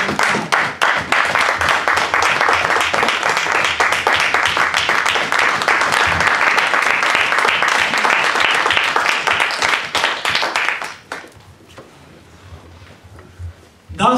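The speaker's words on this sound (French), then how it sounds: "Une main d'acclamation pour cette parole." A church congregation claps after a Bible reading. Loud, sustained applause from many hands rolls on for about eleven seconds, then drops away abruptly into quiet room sound, with a brief sound returning at the very end.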